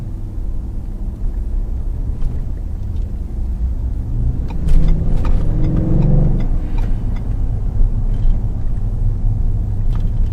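Police patrol car pulling out of a parking spot into traffic, a steady low engine rumble that swells as it moves off, with ticking and road noise around it.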